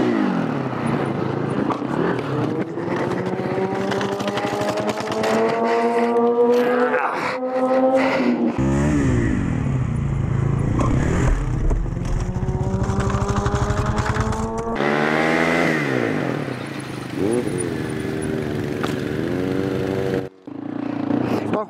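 An ATV quad bike engine revs hard and loud during a one-wheel stunt, rising and falling in pitch through repeated throttle bursts, with a brief gap near the end.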